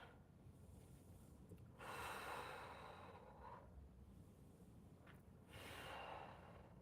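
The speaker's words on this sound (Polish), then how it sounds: "I oddychasz." Slow, deep breaths during relaxation stretching while lying on the back, very faint and close, with two longer airy exhales drawn out over several seconds and no talk.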